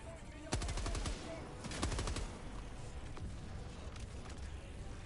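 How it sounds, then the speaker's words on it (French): Machine gun fire in the video game Helldivers 2 rattles out in two dense rapid bursts, loud and close, over a constant rumbling battle bed with players' voices faintly underneath. "J'ai pris la mitrailleuse."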